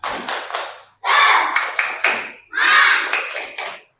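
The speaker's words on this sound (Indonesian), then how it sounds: "Tepuk semangat." A group claps in a rhythmic spirit cheer, tepuk semangat, at a teacher training session: three bursts of quick, loud, close patterned claps separated by short pauses, with faint children's voices mixed in.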